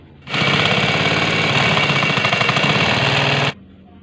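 A sewing machine stitches the crotch seam of a baby shalwar, a loud close rapid rattling run lasting about three seconds that starts and stops abruptly.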